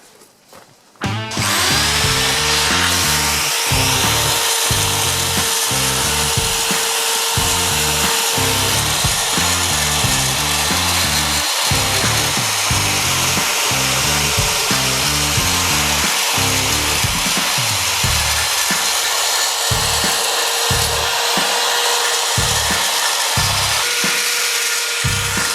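A power drill grinds continuously through a metal exhaust part for a BMW E30, loud and close, its motor pulsing in uneven bursts as the bit bites and catches.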